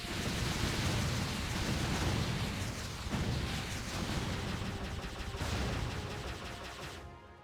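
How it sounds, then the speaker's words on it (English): Explosion in the video game Jade Empire, a long sustained roaring blast with crackling bursts, loud and dense throughout before tailing off at the end. "I guess I can't go through that explosion."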